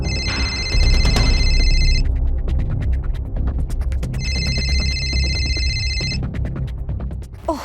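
A telephone rings in two long electronic trilling bursts separated by a pause, heard over a steady low background hum.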